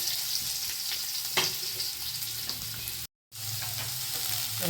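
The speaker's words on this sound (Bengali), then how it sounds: "দিয়ে দেবো পেঁয়াজ কুচি একটা বড় গোটা পেঁয়াজ দিয়ে দিলাম" Chopped onion from one large whole onion sizzles steadily in a hot frying pan while cooking for taro-leaf paratha, with a close continuous crackle and a brief dropout partway through.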